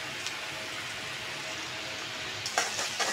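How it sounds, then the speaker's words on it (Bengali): Spice paste of crushed green chilli, ginger and garlic sizzles steadily in a hot pan for a koi fish and eggplant curry, with a few louder scraping stirs near the end. "এখন আমি ভালো করে নেড়ে চেড়ে মশলাটা কাঁচা গন্ধ যাওয়ার আগ মুহূর্ত পর্যন্ত ভেজে নেব"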